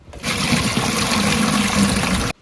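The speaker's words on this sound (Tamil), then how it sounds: "பருப்பு வைக்க தண்ணி ஊற்றிடுவோம்." Water pours into a cooking pot for lentils, a steady splashing rush lasting about two seconds before cutting off abruptly.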